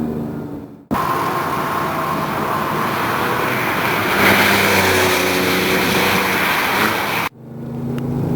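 A Porsche 911 GT3 engine roars loudly and continuously for several seconds, building and holding its revs, then cuts off abruptly.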